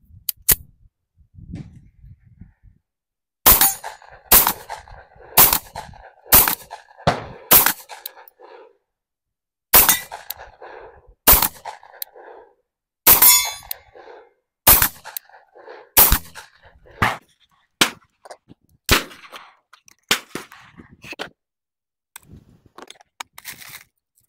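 A Tisas 1911 Carry 9mm pistol fires a string of sharp, separate shots at a range, each crack followed by a ringing steel target, with irregular pauses between shots and quiet gaps in between.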